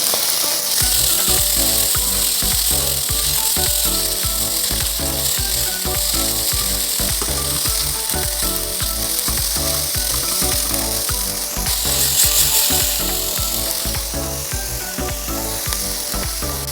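Sliced chicken thigh fillet pieces fry in a pan for teriyaki chicken, a loud, dense, continuous sizzle with rhythmic crackling and occasional stirring, steady throughout with no talking.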